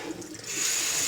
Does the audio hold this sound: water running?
yes